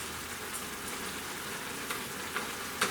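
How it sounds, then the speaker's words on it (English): Venison meat simmers in a pan with a faint, continuous bubbling hiss, broken by a few soft pops and a sharper crackle near the end. "Now we're just going to let this sit here and simmer and cook out a lot of that moisture."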